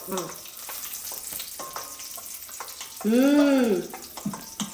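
Ghee frying for kesari sizzles with a steady crackle and occasional pops, and a brief rising and falling whistle-like tone cuts in near the end.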